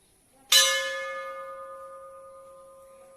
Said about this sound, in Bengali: বড় বন্ডিটা একটা বাজায় দিই